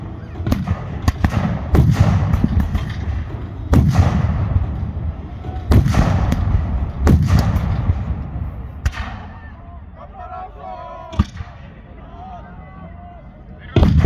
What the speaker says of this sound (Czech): První řady stavovských mušketírů po jednotlivých jednotkách. Střílí se na přeskáčku proti sobě.